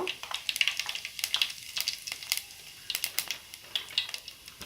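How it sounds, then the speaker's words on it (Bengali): Black cumin seeds crackle and sizzle in hot oil for tempering, with a steady frying hiss broken by quick, close popping bursts throughout and no talking. "এবার আমি ফোড়নে দিয়ে দিচ্ছি কালো জিরে, অল্প জিরে দিয়ে দেব"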